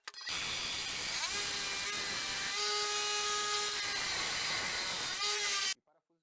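A bench grinder grinds a steel screw with a shrill, steady whine and gritty hiss, its tone shifting as the screw presses against the wheel, then stopping abruptly.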